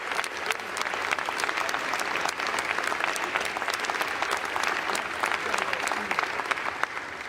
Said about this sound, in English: They're clapping for a permanent loser, dude.